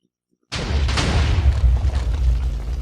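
A TNT cannon fires in Minecraft, one sudden loud boom after a brief near-silence, followed by a sustained rumbling explosion tail that stays heavy for over two seconds.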